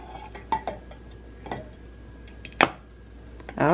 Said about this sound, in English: Alright, and I stirred it